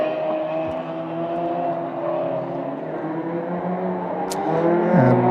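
A Mazda MX-5 race car in the ClubSport Trophy drones steadily around the Croft circuit, its engine note shifting as it runs on, with a brief sharp click near the end and no talk.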